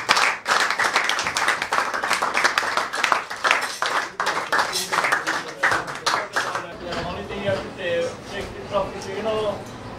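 Audience applause at a presentation, steady and fairly loud for about seven seconds before thinning out as talking takes over.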